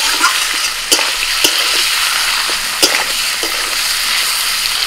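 Chicken coated in turmeric and mustard oil fries loudly with onions, a close continuous sizzle punctuated by several sharp stirring scrapes and knocks spread across the clip.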